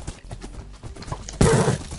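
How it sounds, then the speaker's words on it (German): Horse hooves clip-clopping in the Minecraft video game, several horses ridden together, a quick irregular patter of soft thuds that builds into a louder, busier rush near the end. "Ich reite auf einem Pferd und bring zwei Pferde mit."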